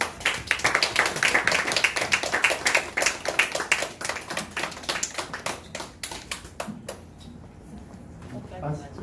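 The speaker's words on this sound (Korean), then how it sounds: "박수로 환영합니다" A church congregation at Sunday worship claps in welcome, a dense run of hand claps that thins out into a few scattered claps toward the end, with voices faintly underneath.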